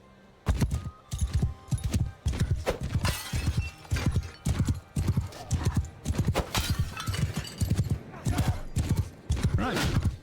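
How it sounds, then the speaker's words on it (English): A horse's hooves clip-clop in a steady galloping rhythm throughout, loud and close, in the video game Mount and Blade 2: Bannerlord, with someone talking over parts of it. "Either my horse riding skills are bad or this is a very slow horse."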